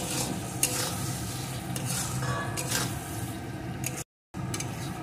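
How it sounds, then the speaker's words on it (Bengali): Spices with turmeric, salt and slit green chillies sautéed in a pan, a steady sizzle with a spatula scraping and stirring against the metal throughout, broken by a brief silent gap near the end. "এখন সমস্ত মশলাটা ভালো করে আমি কষিয়ে নেব"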